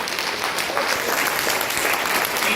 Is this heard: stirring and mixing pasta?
no